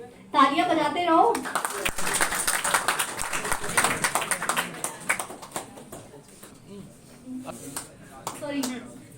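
Seminar audience clapping in dense, sustained applause at a law academy toppers' event, continuing through the middle, then thinning out to scattered claps beneath talking.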